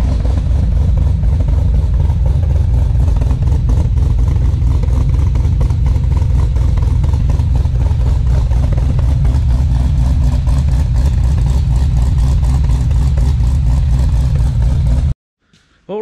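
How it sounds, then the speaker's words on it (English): A loud, steady V8 engine rumble with a lumpy, choppy idle from a performance cam, close and continuous, cutting off abruptly near the end. "we're sort of hoping that the ute with the new cam might sound something like this"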